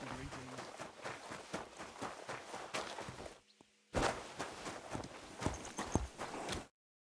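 Horse hooves clip-clopping at a steady walking rhythm in the video game Kingdom Come: Deliverance II, close and clear, with a brief gap of near silence partway through and voices talking over it.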